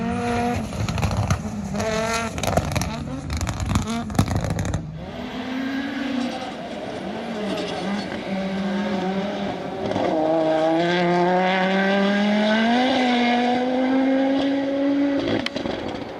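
A rally-prepared Audi Quattro tribute car revs hard, the engine rising and falling through a gear change, then settles into a strained, climbing drone with a squealing, whining edge, loud and close.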